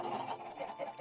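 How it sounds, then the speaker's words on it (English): Chickens clucking in the Minecraft video game, a short run of soft, close clucks and squawks at moderate level with no talk over them. "All right, chickens, come here."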